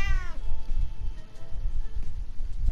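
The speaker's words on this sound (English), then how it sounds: "It doesn't sound like the cat likes it." A cat in 60 Seconds! Reatomized lets out one loud, close, drawn-out meow, followed by a low rumbling background.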